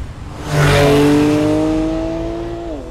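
A Porsche 911 Carrera GTS engine roars up sharply, holding a loud, tonal growl before the pitch drops away as it eases off.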